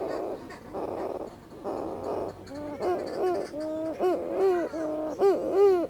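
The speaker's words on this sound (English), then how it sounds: "breeding colonies erupt into a deep, rhythmic moaning that rises up out of thousands of underground burrows at once" Sooty shearwaters, also called mutton birds, calling from underground burrows in a breeding colony at night: a deep, rhythmic series of moaning, hooting notes, repeated steadily and rising in strength toward the end.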